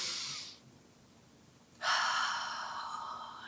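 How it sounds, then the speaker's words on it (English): A deep breath drawn in during a guided visualization, a short hushed exhale followed by a long, airy inhalation, close and quiet, with no talking. "Breathe in"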